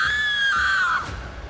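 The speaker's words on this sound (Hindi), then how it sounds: "बुलबुल ये देखकर जोर से चीखी।" Loud, high-pitched scream of a girl, a horror story sound effect, one sustained shriek lasting about a second that slides downward and fades, with no talking.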